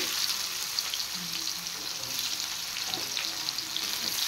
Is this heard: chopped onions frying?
yes